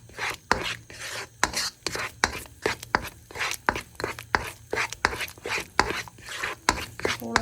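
Eggs scraped and stirred quickly in a pan for Japanese-style fried rice, a steady rapid rhythm of spatula scrapes and taps repeating throughout, close and fairly loud.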